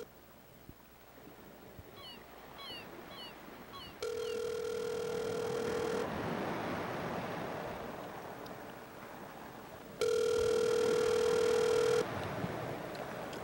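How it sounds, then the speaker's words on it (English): A telephone call being placed: a quick run of short keypad dialing beeps, then two long steady ringing tones separated by a pause, heard alone with no voices. "Maybe we should try to call Dan Dobler too."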